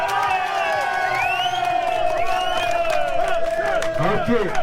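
A crowd at an outdoor car rally gathering cheers and whoops with whistles, shouts and some clapping, a lively, continuous din close by.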